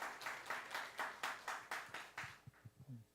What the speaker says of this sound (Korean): 집사님 박수로 환영합니다.